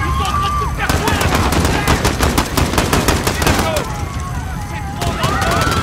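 Sustained automatic gunfire rattles in rapid bursts, loud and close, with voices shouting in French over the shooting, in the video game Call of Duty: Modern Warfare.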